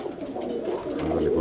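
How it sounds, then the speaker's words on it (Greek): White pigeons held in hand before release, cooing steadily at close range through the short stretch, with a low continuous murmur of calls and no talk. "Εδώ λοιπόν πιάσαμε τα περιστεράκια μας"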